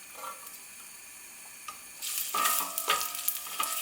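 Spring onions drop into a hot pan and break into a bright, crackling sizzle that swells and stays loud near the mic after a quieter start, with no talking.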